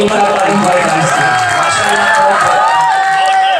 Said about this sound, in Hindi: तालियां बजा करके इजाजत दीजिए।